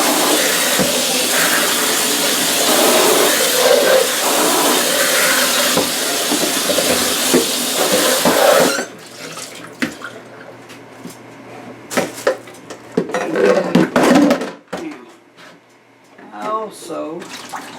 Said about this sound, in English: so wash my hand here